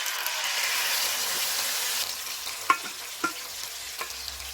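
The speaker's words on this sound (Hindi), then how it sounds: "प्याज अदरक और लहसुन का पेस्ट डालेंगे।" Onion, ginger and garlic paste fries in hot oil with whole black peppercorns, green cardamom and cloves, giving a close, steady sizzle that eases slightly partway through, with a few sharp stirring taps and no voices.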